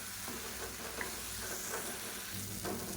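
Tomato and spice masala with chilli powder and turmeric frying in a pan for kulambu, a steady close sizzle running throughout with scraping stir strokes at irregular intervals, no voices.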